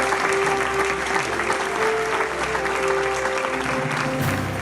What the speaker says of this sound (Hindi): तालियां बज रही हैं ऑक्सफोर्ड यूनिवर्सिटी के दीक्षांत समारोह में।